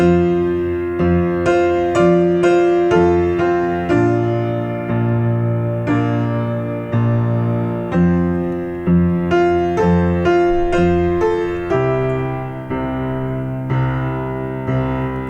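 Steady piano hymn with a deep octave bass note struck on each beat under sustained chords, loud and full, no voices.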